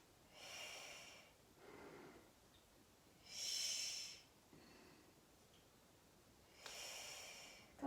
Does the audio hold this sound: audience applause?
no